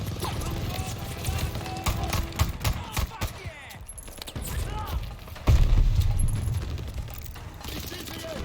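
Gunfire in the Call of Duty: Vanguard video game, with rapid bursts and heavy booms crackling through a busy battle mix, loud and close, with voices partly over it.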